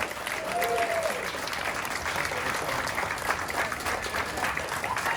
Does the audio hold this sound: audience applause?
yes